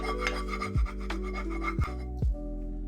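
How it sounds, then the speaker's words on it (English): Brush with a built-in scraper scraping residue off a pan, close rasping rubs with a few sharp scraping strokes in between, loud and alone. "I can flip it over and to scrape to get the rest of the stuff off"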